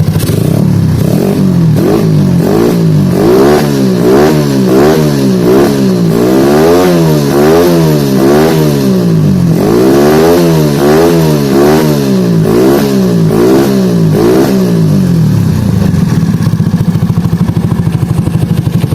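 Yamaha Jupiter Z motorcycle fitted with a Moto1 block, its engine revved hard in repeated rising and falling bursts, loud and close, then settling to a rough idle at the end with no talking.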